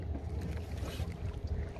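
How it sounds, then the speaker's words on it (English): A child's small electric mini boat moves across open water, a steady low motor hum and water wash with some wind buffeting the microphone, continuous and close throughout. "Riding my boat for the first time."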